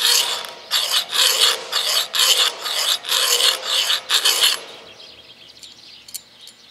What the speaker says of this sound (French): c'est l'affûteur lui-même que j'avance sur le tranchant